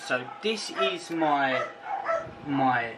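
A dog barks in short yips and whimpers in a small indoor room, while someone speaks briefly over the noise.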